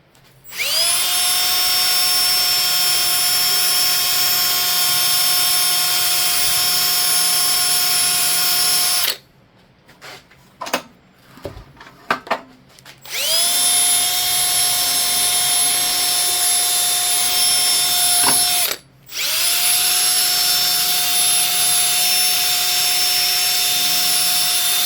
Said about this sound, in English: I know I'm using the wrong wire wheel